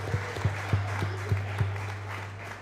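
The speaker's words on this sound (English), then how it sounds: "Give a round of applause to Zach, who rocked the hair the best." Sparse claps from a small audience at a celebration for a championship high school baseball team ring out in a loose, steady rhythm, then fade, over a constant low electrical hum.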